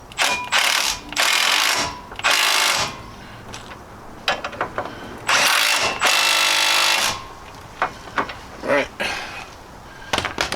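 A ratchet tightens caliper bracket bolts on the wheel hub of a Chevrolet Suburban, giving loud, close bursts of rapid clicking with pauses and scattered metallic clinks between them. Nobody speaks.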